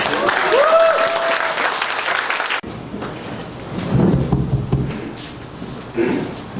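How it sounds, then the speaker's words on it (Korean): An audience at a book talk cheers and claps loudly to welcome a professor, with a whistle rising over dense applause that cuts off abruptly and is followed by softer, scattered clapping and room noise. "교수님 나오실 때 환호와 힘찬 박수로 환영하겠습니다"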